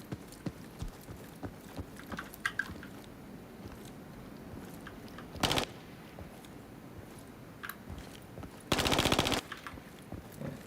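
Gunfire in the extraction shooter game INCURSION Red River: scattered soft pops and footstep-like ticks, then two loud bursts of rapid automatic fire, one short and one longer, with no talking.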